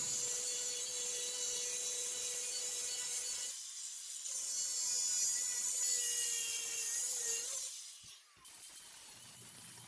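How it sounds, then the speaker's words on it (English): Close and steady, an angle grinder whines and hisses as it cuts steel into pieces, with two brief breaks before it spins back up. "The angle grinder makes a quick task of cutting the steel in pieces to what I need."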